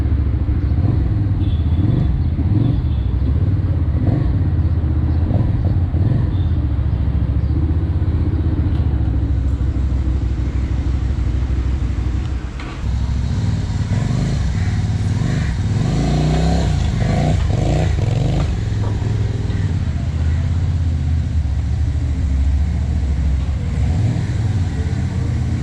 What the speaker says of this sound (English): There is no lag in power, perfect motorcycle for 250cc segment